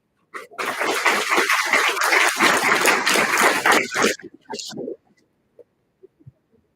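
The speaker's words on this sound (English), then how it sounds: "Have another round of applause" Audience applause at a sustainability team engagement event, a dense burst of clapping lasting about four seconds and then breaking off, followed by a few faint scattered sounds and near silence.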